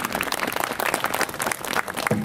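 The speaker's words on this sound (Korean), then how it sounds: "다시 한번 축하의 박수 부탁드리겠습니다." Congratulatory clapping from an audience at the opening ceremony of a memorial hall, a dense, even burst of many hands that carries on briefly without a break.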